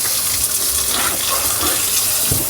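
Water gushes steadily from a newly plumbed tap aboard a restored wooden sailboat, a loud, close, continuous rushing stream filling a vessel with no voices over it.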